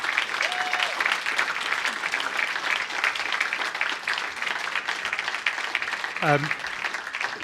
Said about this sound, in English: a proper round of applause for the four of them, please